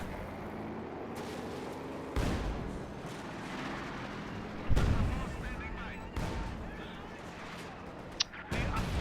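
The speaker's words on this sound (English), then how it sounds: "It sounded like a mine or a demo charge going off." A landmine detonating in Company of Heroes 2, one of several booming blasts amid ongoing battlefield gunfire and distant explosions, with a heavier low thump around the middle and a voice talking faintly underneath.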